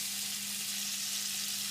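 Venison steak sizzles steadily in a hot pan, a continuous close frying hiss with a low steady hum beneath it, with no voices over it.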